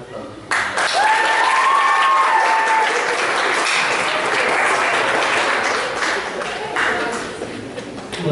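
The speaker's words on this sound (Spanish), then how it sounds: "Fuertes aplausos." Loud, sustained applause from an audience at an academic lecture on Melgar's fables, broad dense clapping filling the whole stretch with a brief whistle-like tone near the start.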